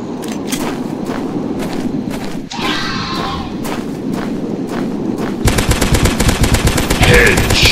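Rapid bursts of gunfire from the dinosaur-hunting video game Dinosaurs Hunter, loud and close, with repeated sharp shots in steady rhythm and a dense fast volley near the end.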